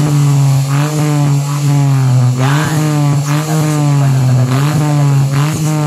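Motorcycle with a replaced turbo muffler exhaust idling and revving in repeated blips, a steady loud engine drone rising and falling several times, close by, no talking.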